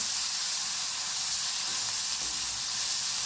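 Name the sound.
onion sautéing in a pan until reddish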